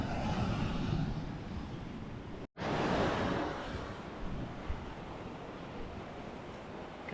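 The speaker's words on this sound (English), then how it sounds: "Some big waves coming there." Big ocean waves break on a beach at Hopton, heard as a continuous broad wash of surf with wind noise. A brief dropout interrupts it, and a fresh crash surges just after.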